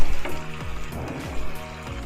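Maggi bread pockets deep frying in medium-hot oil, a dense steady sizzle with bubbling crackle and a few soft stirring clinks, close and continuous.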